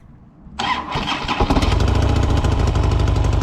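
A custom motorcycle starts after a quiet moment with a sudden loud crank, then settles into a steady, throbbing engine note that holds up close and loud as it gets going.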